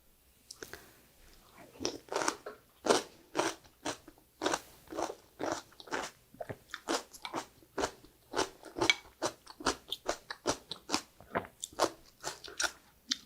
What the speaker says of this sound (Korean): 나박김치 정말 맛있겠죠? 네, 한번 먹어볼게요.